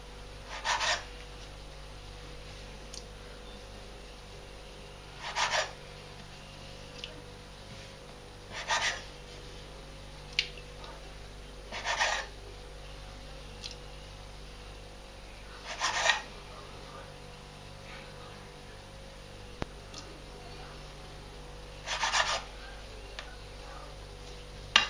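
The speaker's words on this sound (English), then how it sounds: "So I'm just going to try and cut it as thin as I can to little strips." Knife cutting rolled homemade pasta dough into thin strips on a board, a short crisp chopping stroke every few seconds at a slow, steady pace, close and fairly quiet over a low background hum.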